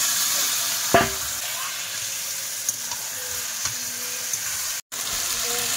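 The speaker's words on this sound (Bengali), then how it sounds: "এই এদিকে মাংস কষাই হচ্ছে" Meat and spices sauté in a pan with a steady, close frying hiss. A few faint clicks and a brief scrape come through, and a quick dropout occurs near the end.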